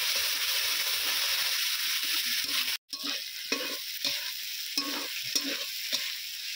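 Spice masala with ginger paste frying in mustard oil for chicken curry, a bright steady hiss with spatula scrapes and stirs scattered throughout, briefly cut off once, close up with no speech.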